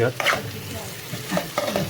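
Clams that were boiled first to open them are fried briefly in a pan. Short bursts of scraping stir and light sizzle come close and fairly soft, with no talking.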